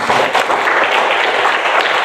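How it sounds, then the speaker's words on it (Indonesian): Students in a classroom clap their hands in a loud, dense, continuous burst of overlapping claps lasting about two seconds, close by, with no talk over it. "Tepuk tangan untuk"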